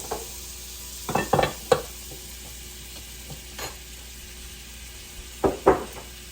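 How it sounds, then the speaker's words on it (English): Butter added to bacon fat in a pan over medium heat for a roux, giving short bursts of sizzling and stirring scrapes in two clusters amid quiet background. "To that, I'm gonna add another 2 tablespoons of butter for the roux."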